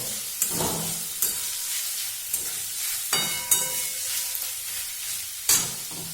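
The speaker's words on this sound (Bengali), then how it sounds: "পেঁয়াজটাকে একটু আমি ভেজে নেব" Onion sliced into long strips sizzles in a pan for a Bengali yard-long bean vegetable dish. A steady, close frying hiss runs throughout, broken by sharp, regular clinks and scrapes of stirring.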